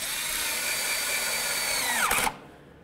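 Power drill driving a bolt into the corner of a 2007-14 Ford Edge bumper during a radiator replacement, a steady close whine that drops in pitch as the bolt seats, then cuts off abruptly.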